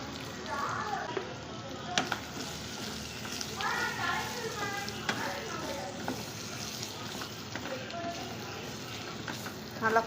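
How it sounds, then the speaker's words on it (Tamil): Chopped plantain stem fries in oil with a steady, moderate sizzle and occasional stirring clinks, while a voice talks over it at times. "நல்லா ஃப்ரை ஆகட்டும். எண்ணெயிலே வேகட்டும்."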